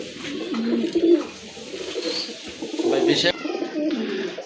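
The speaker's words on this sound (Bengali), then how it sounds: "ভালো মানের এক জোড়া কবুতর" Pigeons coo repeatedly in low, throaty rolling calls, close by, with a couple of overlapping birds and faint background murmur.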